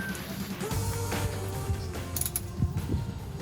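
Filler plug on a Toyota Hilux transfer case being tightened by hand, giving soft clicking, ratcheting and creaking mechanical sounds in a short, close, fairly quiet sequence with no talk.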